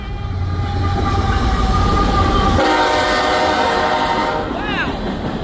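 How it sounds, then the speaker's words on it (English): A BNSF express train passes close by as a loud, continuous rumble with wheel clatter, and a horn sounds partway through. "Here comes the express!"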